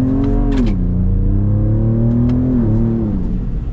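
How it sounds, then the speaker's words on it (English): A 2021 Ram TRX pickup with a V8 and a very loud aftermarket exhaust revs hard and close by, a deep continuous roar rising and falling in pitch with no talk over it. "this exhaust is so ridiculously loud"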